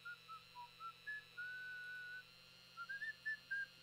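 A character in the Thief Simulator game whistles a short, wandering tune in clear, separate notes with one longer held tone, quiet and slightly distant over a steady low hum.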